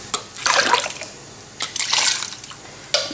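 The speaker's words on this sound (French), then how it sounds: "après la cuisson, je rajoute du lait de coco" Coconut milk is poured into a pot of lentil and spinach dhal in a few separate splashy, gurgling pours, close and fairly loud, with short pauses between them.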